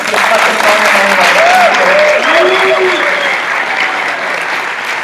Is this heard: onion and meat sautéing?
no